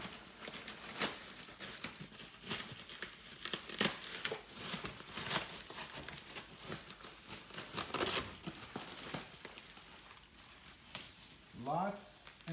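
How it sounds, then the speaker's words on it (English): Bubble wrap and clear packing tape crinkle and tear as new Corbeau seats for a C5 Corvette are unwrapped by hand, a steady run of close crackling and rustling with a few sharper rips and a brief voice near the end. "Lots and lots of bubble wrap."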